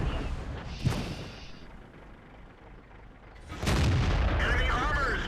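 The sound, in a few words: tank shot and KV-1 tank destroyed in World of Tanks video game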